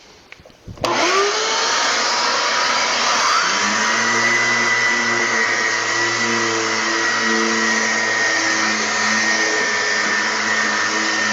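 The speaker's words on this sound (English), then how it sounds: "sanding a little bit." A power sander starts abruptly and then runs steadily on a pine plywood tool box built for a pickup bed, with a loud, continuous droning whine and no talking.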